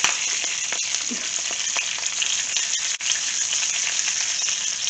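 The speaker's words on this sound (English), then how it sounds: "grease the skillet with coconut oil and add the spinach" Spinach frying in coconut oil in a hot skillet gives a steady, bright, close sizzle and crackle that continues throughout, with a brief dip midway and no talking.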